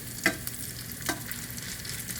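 Salmon patties fry in a pan with a steady close sizzle, and two brief scraping taps are heard as the patties are turned.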